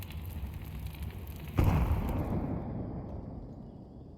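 An incendiary grenade ignites in Counter-Strike on the Ancient map during an ESL Impact match, a sudden whoosh followed by a steady roaring crackle of burning that slowly settles, heard alone without talk.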